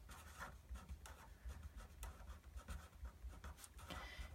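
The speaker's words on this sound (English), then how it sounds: "I'm going to write that in big green letters" Marker strokes on a board during a physiology lecture on hearing, a steady run of short scratchy squeaks and rubs at moderate level with no talking over them.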